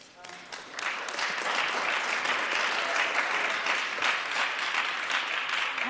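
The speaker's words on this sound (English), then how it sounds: "Everybody, please, another round of applause." Audience applause fills a youth parliament session for blind and visually impaired young people, rising after a soft start into steady, dense clapping that holds for several seconds.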